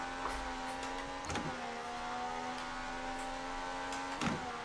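McLaren Formula 1 car from the F1 2018 racing game, its engine holding a steady high-pitched whine that dips briefly twice with gear shifts, loud and continuous with no talk.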